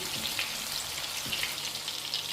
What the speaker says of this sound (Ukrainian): Післяк їх вже жарю до готовності